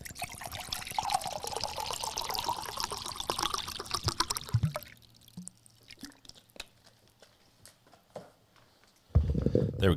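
Water pours into an empty mug, a steady trickling stream lasting several seconds, then sparse drips and small clinks before a louder rumble at the end.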